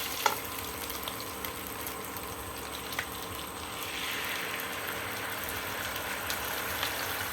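Ginger and spices fry in a pan as ground cashew, poppy seed paste and green chilli go in for a vegetarian doi paneer, giving a loud, continuous hissing sizzle that swells midway, with no talking.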